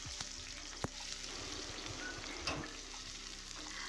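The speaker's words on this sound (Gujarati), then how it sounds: "અહીં પહેલાં તો ડુંગળી જે છે આપણે જે ચોપ કરી દીધી છે તો તેને આપણે શેકવાની છે" Chopped onion fries in a pan, giving a soft, steady sizzle with a few sharp clicks and stirring knocks scattered through it and no voices.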